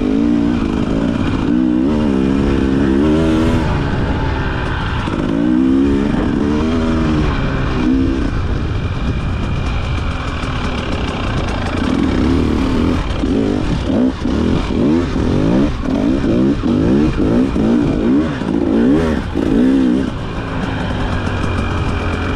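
A Husqvarna 300 TE TBI two-stroke dirt bike engine, a 2024 model with new fuel injection, runs loud and close throughout, its pitch rising and falling with repeated throttle blips and revving.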